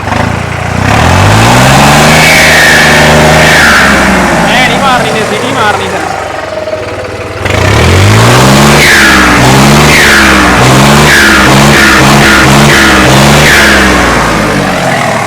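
A New Holland 3630 tractor engine revs loudly up close, its pitch rising and falling in repeated surges with a brief drop midway, while voices talk over it.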